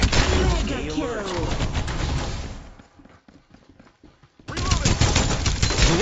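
Close, rapid automatic gunfire in the shooter Farlight 84, loud and dense. It breaks off for about two seconds, then fires again just as hard.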